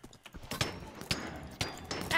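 Horse hooves clip-clop in a Minecraft Hunger Games match, a run of quick rhythmic thuds mixed with game clatter at moderate loudness.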